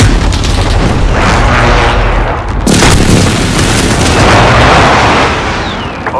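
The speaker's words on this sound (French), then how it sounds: "Frappe imminente." Airstrike explosions in the Modern Warfare video game, a loud continuous roar of heavy booming blasts rolling one into another, with a sharp new impact partway through and no voices.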